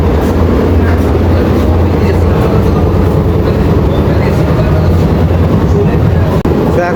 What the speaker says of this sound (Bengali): তো এখন ট্রেন রানাঘাটে ঢুকছে।